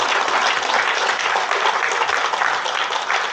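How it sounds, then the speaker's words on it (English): An audience at a MONIN Day 2025 event breaks into dense, steady applause, a full wash of many hands clapping at once that holds evenly for a few seconds without pause. "Please give Varun a big round of applause"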